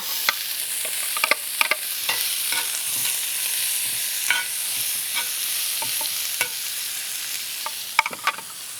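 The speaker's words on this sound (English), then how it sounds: "My pan's all nice and hot. I'm gonna throw some olive oil in here. Let's get these onions cooking." Onions frying in olive oil in a hot pan give a steady, close sizzle with scattered crackles and pops and occasional stirring clicks, with no talking.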